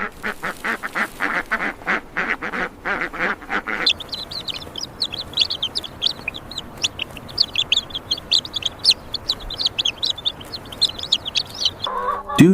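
Pastured meat chickens clucking around a mobile coop housing about fifty birds on a farm, a dense close flock of overlapping clucks and chirps, busier at the start and continuing steadily throughout with no talk.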